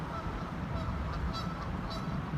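Geese honk in a few short calls at a distance, faint above a steady low rumble of wind and rushing floodwater along a riverbank.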